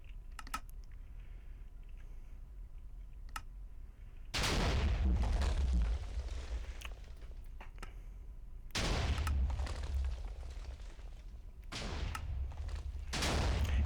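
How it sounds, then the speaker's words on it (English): Rapid bursts of blasting erupt in loud clusters from a fully automatic TNT cannon in Minecraft 1.5, between quieter stretches of small clicks, repeating explosions rolling one after another. "it's a fully automatic cannon that shoots for 2 to 3 hours of real time without needing to reload"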